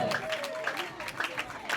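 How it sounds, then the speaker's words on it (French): An audience at a customary wedding ceremony claps in a quick, scattered patter while a voice talks over the applause. "Papa Bossele, nous vous prions de bien vouloir vous lever sous les applaudissements s'il vous plaît"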